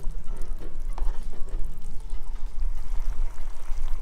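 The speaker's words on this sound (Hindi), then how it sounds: "इसलिए आप इसमें गर्म पानी बीच बीच में थोड़ा डालते रहिए।" Hot water pours steadily into a pan of simmering kadhi with a gurgling, splashing rush, close and fairly loud, with no talking.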